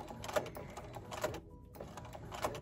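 Sewing machine stitching a body pillow seam, a quick mechanical chatter in short bursts separated by brief pauses, moderately close with no talk.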